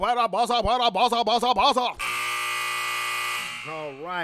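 A loud, steady electronic buzzer blares for about a second and a half right after a burst of speech, and talking resumes as it fades.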